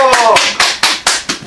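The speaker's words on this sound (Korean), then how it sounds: "와, 박수!" Several sharp, rhythmic hand claps ring out close and loud at a talk show event, about five distinct claps following a voice, each ending quickly.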